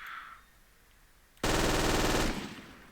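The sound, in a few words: MG34 machine gun firing at MG42 rate in a video game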